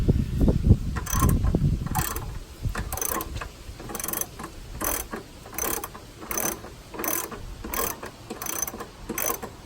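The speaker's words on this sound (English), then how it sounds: "you're going to have to take the bolts off first" Rapid ratchet clicks from a socket wrench loosening alternator bolts on a 2007 Dodge Durango with a 4.7-litre V8, coming in evenly spaced bursts of clicking after some initial rustling handling noise, close and clear.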